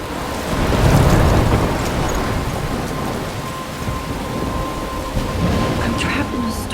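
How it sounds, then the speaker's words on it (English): A thunderstorm in the video game Life is Strange Remastered gives heavy rain, with loud rumbling thunder near the start and a dense downpour that continues throughout. "I'm trapped in a storm?"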